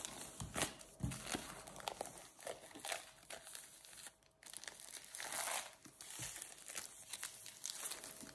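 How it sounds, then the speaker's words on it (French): Plastic packaging crinkles and tears as a collector's edition Castlevania book is unwrapped, with close, irregular rustling bursts throughout and a brief pause midway. "Je déballe."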